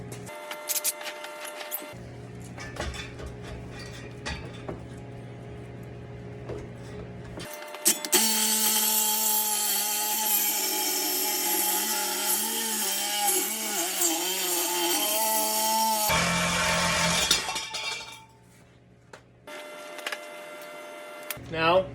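An old exhaust pipe is cut off a car, with a loud, harsh power-tool whine running steadily for about ten seconds in the middle, bracketed by quieter workshop noise and someone talking.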